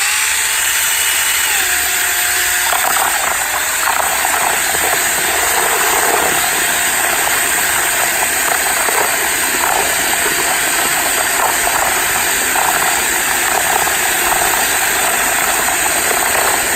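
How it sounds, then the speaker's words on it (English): A power drill with a paddle stirrer churns 1:1 sugar water in a 5-gallon bucket, a continuous loud mechanical drone with sloshing, no talk. "5-gallon stirrer, and we just stir it up."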